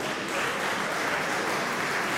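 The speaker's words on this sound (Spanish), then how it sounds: "un aplauso y recibimos este nuevo panel." An audience at a national real estate professional forum in Buenos Aires applauds to welcome a panel, a dense, even stretch of clapping that holds steady throughout.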